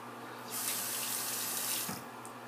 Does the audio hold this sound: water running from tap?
yes